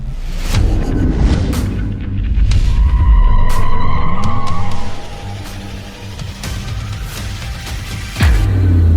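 A Porsche electric car drives fast with tires skidding and squealing, loud close whooshes and a rising screech mid-pass, then a sharp thump and rumble near the end, no talking.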